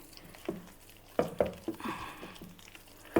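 Soya meal maker vada batter is mixed with chopped onions, producing soft, wet squelches and slaps in irregular bursts, close and fairly quiet.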